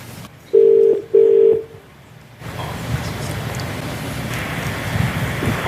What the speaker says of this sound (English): let's try and call him now and see if he'll chat up Uncle Phill